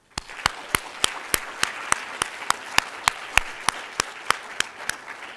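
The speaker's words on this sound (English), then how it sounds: "perhaps you could join me in giving a round of applause and thanks to him" A brief patter of applause for a thank-you at the Hult Prize Finals, University of Waterloo: sharp, evenly spaced claps stand out against a soft wash of clapping, steady and fairly close, with no talk over it.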